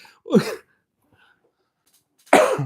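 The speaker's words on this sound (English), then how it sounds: "Sorry, I'm still kind of coughing." Two harsh, close coughs separated by nearly two seconds of silence.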